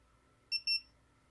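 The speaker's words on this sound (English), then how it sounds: "So it's over here, just beeping." A wireless drone beacon buzzer gives two short, high-pitched electronic beeps in quick succession, faint and thin against a quiet background hum.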